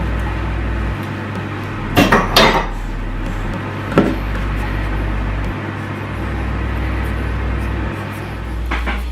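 Baked keto donuts are turned over in a pan, giving a few short knocks and taps against the pan over a steady background hum.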